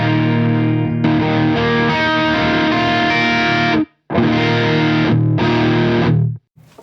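Distorted electric guitar chords ring out and are abruptly cut to silence twice, the noise gate clamping each stop sharply, loud and close with no talking.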